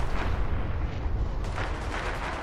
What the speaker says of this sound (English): he hears gunshots more and more often